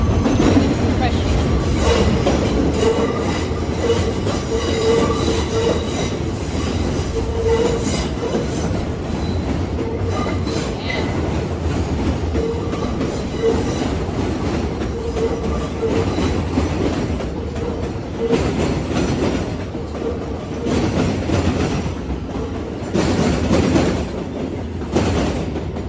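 A train on a New York City line runs loud and steady for the whole stretch, its wheels grinding and squealing on the rails in a continuous metallic roar, with faint voices in the background.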